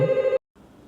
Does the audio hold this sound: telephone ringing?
yes